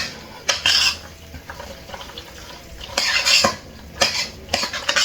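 Tuna casserole ingredients stirred in a bowl with a utensil, sharp scraping clinks coming in bursts near 0.5, 3 and 4 seconds over quiet handling noise.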